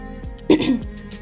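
A brief, gravelly throat clearing up close, a rough rasp lasting under a second over a steady low background hum.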